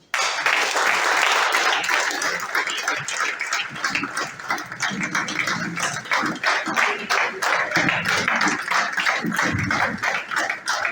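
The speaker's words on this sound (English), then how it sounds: "Another round of applause for you." Audience applause after a speech, dense sustained clapping filling the whole stretch with a loud, even level and a few lower voices mixed in underneath.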